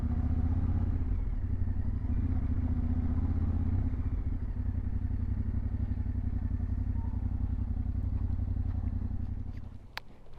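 Motorcycle riding with a flat rear tyre, a steady mid-pitched engine drone with rhythmic clattering, continuous and fairly close, easing off near the end.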